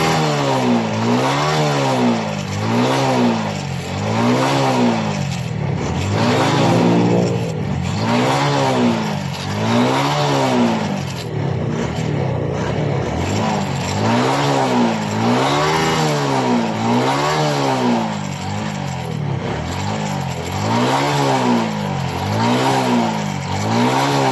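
A Suzuki Smash 115 motor scooter engine runs close by after starting on one click, revving up and down in a steady repeating rhythm, whining higher with each throttle push.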